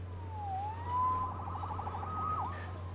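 A wailing police siren in Marvel's Spider-Man video game rises and falls, shifting into a fast warbling yelp before sweeping down, over a steady low electronic hum.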